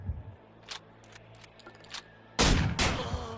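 Gunshots in the Manhunt video game: a few sharp isolated cracks early on, then a loud close burst of two heavy blasts with ringing tails near the end.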